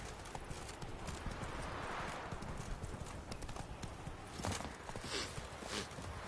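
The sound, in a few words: horse Roach's hooves clip-clopping in a video game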